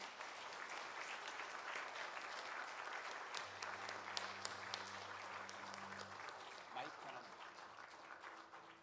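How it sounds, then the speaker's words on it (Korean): A church congregation applauds during a Sunday service, giving steady, fairly faint clapping throughout, with a low hum partway through and a few voices talking beneath it. "그럼 큰 박수로 한번 맞아주시기 바랍니다."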